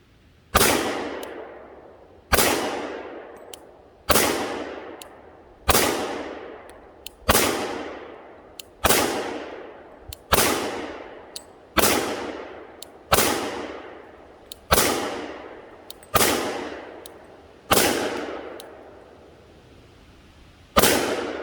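A Glock 23 pistol fires a magazine fitted with extended base pads at a range: about fourteen sharp, loud shots in a steady rhythm, each with a short decaying echo, no talking.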